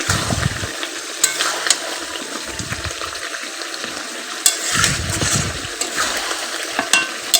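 Meat cooks in a hot pan with a steady, close sizzle and frying hiss, punctuated by a few sharp scrapes and knocks as it is stirred.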